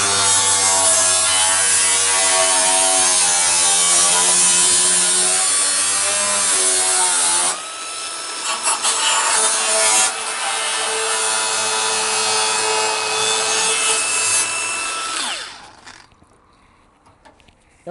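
A power tool cutting freehand through the metal wheel arch of an Alfa Romeo Giulietta for custom widebody arches, a loud, close, continuous whine and grinding that changes tone midway as the cut progresses, then stops near the end.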